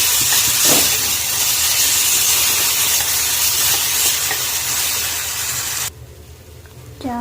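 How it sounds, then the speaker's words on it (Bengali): Rice frying in ghee in a pot for payesh makes a loud, steady hissing sizzle close by that drops away abruptly near the end, leaving quieter room noise and no speech. "হাঁড়িতে আর একটু ঘি দিয়ে চালটা ভেজে নিচ্ছি।"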